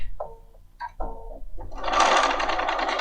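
A Bernina 5 Series sewing machine stitches fabric: a few short whirring bursts, then a steady, close mechanical run of rapid needle strokes.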